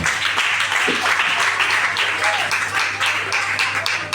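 A church congregation applauds with dense, continuous clapping that stays loud and even for a few seconds, with a murmur of voices mixed in.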